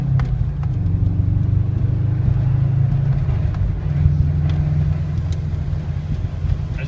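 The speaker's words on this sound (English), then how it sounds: "Turbo spools up nice." A 2012 Subaru Impreza WRX sits idling with a steady, loud low rumble of engine and exhaust. The note swells only slightly as the turbo spools, with no voices heard.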